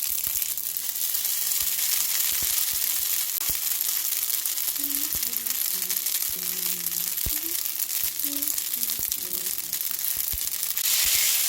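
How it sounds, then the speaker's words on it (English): Japchae, the glass noodle stir-fry, and a small bowl of rice go into a hot frying pan, giving a steady broadband sizzle with scattered scraping and stirring clicks throughout. "Now with the 잡채 that we made earlier, we're going to add that to the pan."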